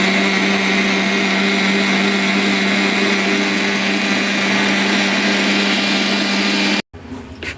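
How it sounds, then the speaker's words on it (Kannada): A mixer grinder churning Nandini milk into butter, a loud steady motor whine with a constant pitch for about seven seconds, then cutting off abruptly into quiet room sound. "ಒಂದು ಸುತ್ತು ಮಿಕ್ಸಿಗೆ ಹಾಕೋದು ಅಷ್ಟೇ"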